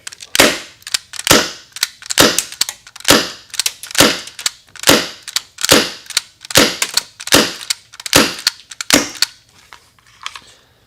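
A MK.23 clone pistol fires without its suppressor, about a dozen sharp, loud, close shots in a steady rhythm roughly a second apart, heard alone with no talk.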